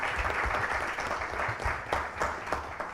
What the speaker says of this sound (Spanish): Quiero un aplauso para Daniela y por Carlos.